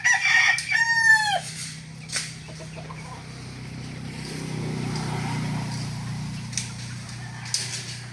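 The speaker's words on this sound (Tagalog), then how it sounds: "Ayan yung ating mga manok" A rooster crows loudly and nearby at the start with a rising, drawn-out call, followed by scattered clucks from chickens over a low background rumble.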